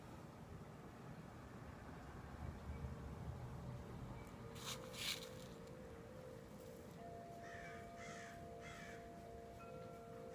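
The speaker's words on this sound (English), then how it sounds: "there's some crows cawing right outside at this time." Several crows caw in a short cluster somewhere outdoors at a distance, heard faintly over a low steady background hum.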